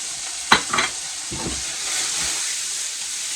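White onion with red and green peppers frying in a pan beside cooked potato: a steady bright sizzle and hiss, opening with a couple of sharp stirring clatters, then settling into continuous frying with no voices.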